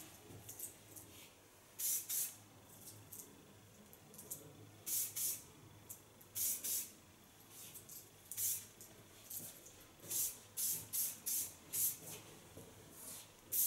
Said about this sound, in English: so you don't need hard hairspray.